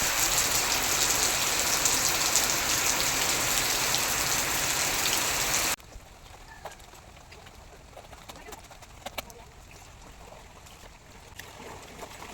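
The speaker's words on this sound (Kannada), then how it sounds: "ಮತ್ತು ಮಳೆ ಬಂತು ಕಾಣಿ." Rain falls steadily in a village, a loud dense hiss that stops abruptly halfway through and leaves a quieter background with scattered drips and soft sounds.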